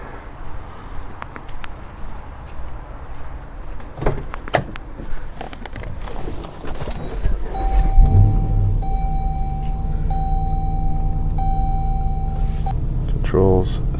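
A Jeep Grand Cherokee is switched on, giving a few clicks and thuds, then a steady electronic tone and a sustained motor hum as the air suspension self-adjusts its ride height, with a short rising whir at the end.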